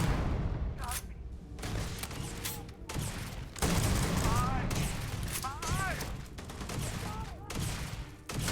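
Enemy weapon firing in the Starfield video game, dense repeated bursts of gunfire and booms layered with chirping energy-weapon tones, loud and continuous, with talking over it.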